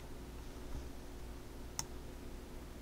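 A single computer mouse click sounds sharply once, close and brief, against a quiet room hum with no one talking.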